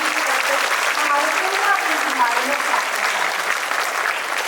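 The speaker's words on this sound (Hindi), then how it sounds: "जोरदार तालियों से अभिनंदन हमारे" Audience applause at a felicitation ceremony for neo-literates in Chandigarh, with education officials on stage: steady, dense clapping from a crowd throughout, with a voice over it.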